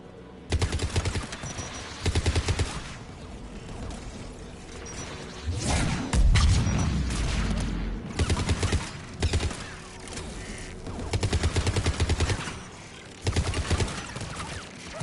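Anti-aircraft guns firing in a video game, rapid bursts of automatic fire repeating in short volleys with one heavier blast in the middle, loud and close, no speech.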